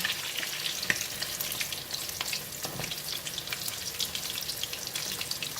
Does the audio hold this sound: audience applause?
no